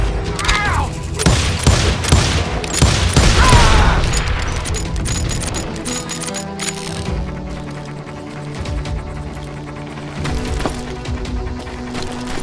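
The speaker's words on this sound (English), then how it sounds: "They're shooting in the street!" Chaotic gunfire in a Wild West street scene, rapid bursts of sharp shots and booming reports clustered early, then sparser scattered cracks with clattering mechanical sounds, loud and close throughout.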